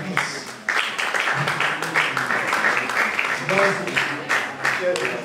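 Applause from an audience at a graduation ceremony, a patchy spread of hand claps rising and falling, with voices talking over it.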